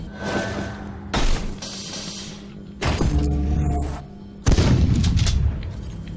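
Shotgun blasts in the arena shooter Reflex Arena: three heavy booming shots spaced a second or two apart, each a loud broadband burst over continuous game background sound, with no voices.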